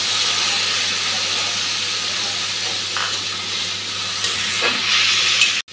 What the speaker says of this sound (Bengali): ঝিঙ্গেটা ভালোভাবে ভাজা হয়ে গেছে, এখন গুলে রাখা মশলাটা দিয়ে দিচ্ছি।